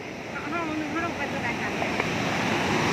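Tad Houakhon waterfall in Lamam, Sekong province, southern Laos, pours with a constant broad roar that fills the whole span, while nearby voices talk and call out over it.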